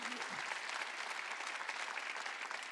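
A church congregation claps steadily through a sermon, a dense and sustained burst of many hands that carries evenly from start to end, with a faint voice briefly at the beginning.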